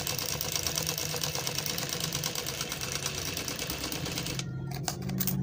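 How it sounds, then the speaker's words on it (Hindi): Sewing machine stitching fabric during a hand-guided design sewing lesson, running in a steady rapid mechanical chatter that continues throughout, then stops briefly near the end with a few short bursts. "फिर इधर भी शुरू कर लेते हैं एक और सिलाई।"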